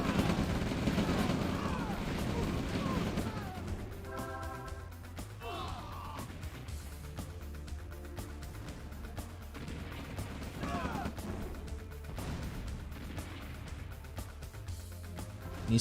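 Artillery shelling medium tanks in an OpenRA Red Alert battle, sounding as scattered sharp bangs and crashing impacts with rattling bursts, some louder near 4 and 6 seconds, over a low rumble at moderate level.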